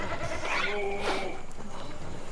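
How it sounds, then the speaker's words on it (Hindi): A goat bleats loudly and nearby in a livestock market setting, a wavering cry over a busy background with people talking. "बगली वाला बकरा"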